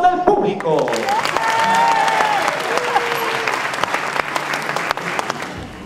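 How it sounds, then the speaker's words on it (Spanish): Studio audience applauding at a live game-show contest, a dense steady wash of clapping that starts loud and holds throughout, with faint voices and tones sounding over it early on. "Y el aplauso del público."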